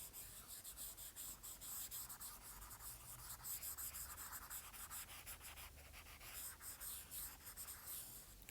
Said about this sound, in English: I'm going to actually erase this a little bit so we can see the equations.